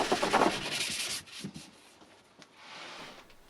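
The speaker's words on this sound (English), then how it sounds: "I can tidy that up with a hand sanding pad." Hand sanding pad rubbing over dried filler, a close, steady scratchy rasp in quick back-and-forth strokes that fades and softens after about a second.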